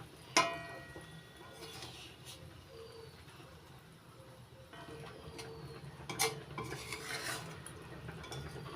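Gentle stirring of ground spice into mango chutney with the peel on, soft scraping and a few faint utensil ticks against the pot, quiet and close, with a light sizzle underneath.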